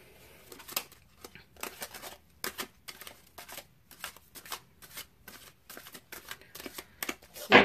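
Tarot cards being shuffled close up, repeated quick riffling bursts separated by short pauses, crisp and papery, with no talking.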